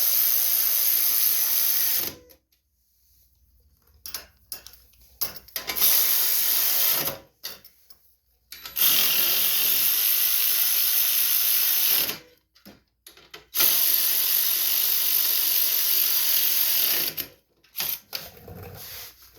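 A ratchet wrench tightens the carburetor bolts on a Snow Devil snowblower's 208cc engine, giving several close bursts of rapid clicking separated by short quiet pauses, with no talking.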